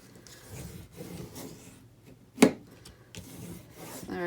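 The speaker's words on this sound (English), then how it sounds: "I just take my ruler and I kind of put it in there and I drag it out underneath it" A ruler is dragged along folded 2½-inch paper flaps of a mini album to curl them, giving soft repeated rubbing scrapes with one sharper, louder swipe near the middle.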